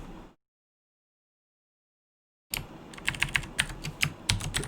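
Keys tapping on a computer keyboard while writing program functions, a short burst of close, irregular clicks after a silent pause, with no talking.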